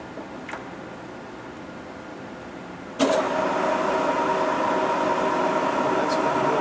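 Mazak 1440 lathe S/N 44213 running with its half nut engaged for threading: a steady mechanical whir that jumps louder midway and then holds as an even, sustained drone.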